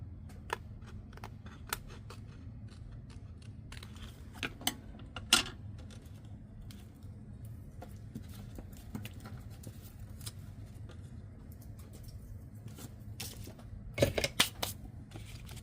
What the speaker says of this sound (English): I'm just going to manually trim off these extra overhang pieces